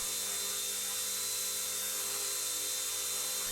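Small RC ERA C138 1/33 scale Bell 206 model helicopter hovering indoors, a steady high-pitched electric motor whine with tonal rotor hum, unbroken and fairly quiet.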